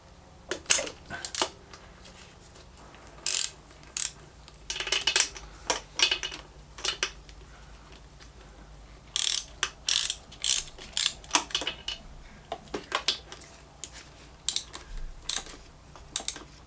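Rapid clicking of a ratchet removing rocker cover bolts on a Harley Sportster, in short bursts of quick metallic ticks separated by pauses, fairly close and moderately quiet.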